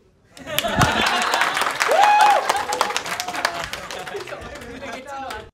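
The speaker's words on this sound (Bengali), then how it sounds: "হাততালি" An audience at a televised Bengali talent show audition breaks into applause, a dense burst of clapping that swells and fades over a few seconds, with some cheering and voices mixed in.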